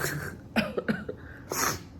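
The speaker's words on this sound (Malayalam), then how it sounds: "ചുമയായിട്ടിരിക്കുകയാണ്" Several harsh, congested coughs from a person with a blocked, sore throat, close and loud, coming in a short irregular burst followed by one more rough cough.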